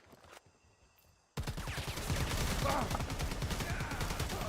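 Rapid, loud gunfire fills the Predator: Hunting Grounds video game match after a quiet start, with dense bursts of automatic shots continuing steadily to the end.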